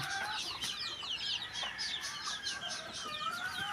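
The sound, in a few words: chickens clucking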